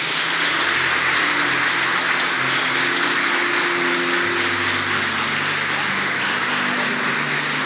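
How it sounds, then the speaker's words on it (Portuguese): A church congregation applauds during a Christmas cantata service, a broad wash of many hands clapping steadily under a sustained low musical drone, no one speaking. "Você pode aplaudir ao Senhor?"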